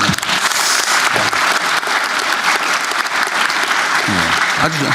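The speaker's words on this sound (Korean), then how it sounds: "박수 한번 줘보세요 한번" Audience applause at a meeting between a president and small business owners, a loud, sustained wash of clapping from a large hall, with a speaker's voice cutting in near the end.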